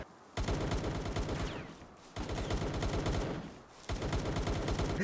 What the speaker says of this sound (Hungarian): Ez tök jó, hogy így lövöldözik